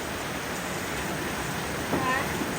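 Steady midday rain falls outdoors near a DIY welded plant rack project, a dense, even hiss throughout with a slight swell near the end.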